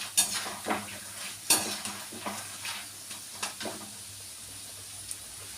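Appam frying in hot oil sizzles quietly and steadily, broken by several sharp scraping stirs and the clink of a ladle against the pan, close by and without speech.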